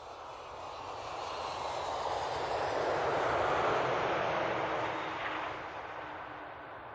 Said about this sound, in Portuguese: Agora vêm de avião.